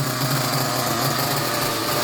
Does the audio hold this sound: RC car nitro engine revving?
yes